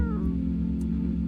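A cat meows in the video game No I'm not a Human, a short faint mew near the start over a steady low electronic hum of game music and ambience.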